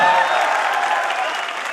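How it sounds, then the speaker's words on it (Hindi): A crowd at a leaders' celebration event gives loud, continuous applause with some cheering mixed in, close and dense throughout, with a voice carrying over the clapping. "मिस्टर रवीश वर्मा साहब के लिए जोरदार तालियां"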